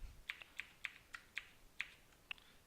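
Keys clack on a computer keyboard in a run of about eight crisp, evenly spaced taps, quiet and close with no talk.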